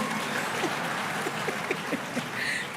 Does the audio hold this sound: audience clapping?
yes